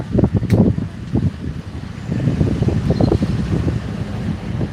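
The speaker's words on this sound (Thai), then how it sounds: "วันนี้ลมเย็นมากเลยวันนี้" Gusty wind buffets the microphone in low rumbling bursts, rising and falling throughout without any voices.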